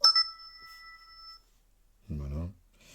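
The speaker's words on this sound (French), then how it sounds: "Donc les notifications." Lenovo S5 smartphone notification chime: a single bright, ringing tone with a clean sustained tail fading over about a second and a half, followed by a short burst of a man's speech.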